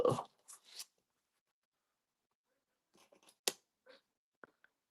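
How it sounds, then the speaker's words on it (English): Scissors snipping through threads on a layered fabric gift bow, heard as a few brief crisp cuts and small rustles with short pauses between them, close up in a quiet room. "And then I'll cut all the threads."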